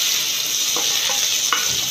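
Tempering spices splutter in hot oil with a dense, close sizzling hiss and a few scattered pops over a brief stretch, alone and without speech.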